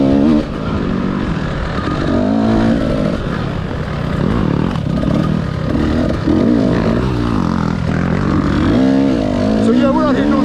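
A 2020 TX300 two-stroke dirt bike runs practice laps with a constant, loud engine drone that rises and falls as the throttle changes, close and continuous throughout.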